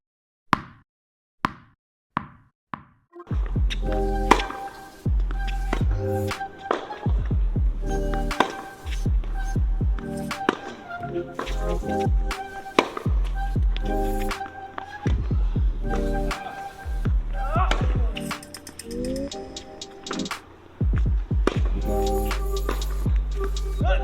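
Tennis balls struck by a Tenx XCalibre Extended 315 racket on court, a steady run of sharp hollow pops with a few isolated hits first, then continuous rally impacts over ringing, music-like background tones.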